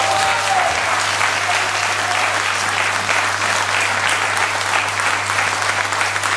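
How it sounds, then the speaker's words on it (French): An audience at a concert in Mons applauds steadily and loudly, a dense, even wash of clapping that holds for the whole stretch with no voices breaking through. "Françoise Tourné, Brigitte Storm, je voudrais que vous les applaudissiez"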